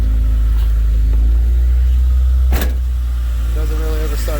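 1991 Honda Civic hatchback engine cranking and catching, then idling steadily with a loud low drone, a sharp click partway through and a brief whine near the end.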